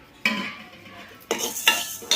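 Metallic clanks of cookware: one clatter, then a second sharper clank with a brief ring as a lid is set on a pot of boiling water for Aadi koozh.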